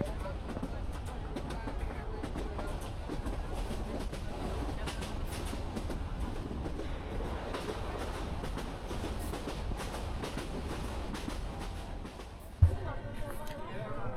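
Passenger train riding from Dhaka toward Gochihata station in Bangladesh, a steady low rumble of rail travel with carriage noise throughout, a sharp knock near the end, and voices murmuring in the background.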